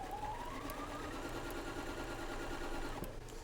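A sewing machine stitches quilt pieces together, a steady, fast mechanical whir and rhythmic needle clatter running close and continuous throughout, with no talking.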